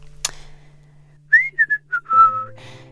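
A person tries to whistle during a voice-acting outtake for the game Enderal: a sharp click, then a few short, uneven whistled notes that slide up and down, ending in a longer wavering tone over a low hum.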